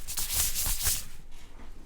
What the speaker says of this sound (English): These are the noisiest pants.